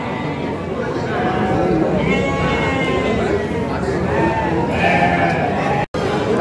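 Sheep and goats bleat repeatedly at Padalarang sheep market, a dense, loud chorus of overlapping calls with people talking throughout.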